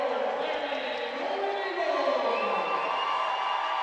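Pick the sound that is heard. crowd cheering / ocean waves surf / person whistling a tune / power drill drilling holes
crowd cheering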